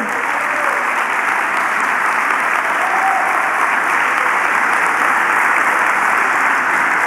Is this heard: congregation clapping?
yes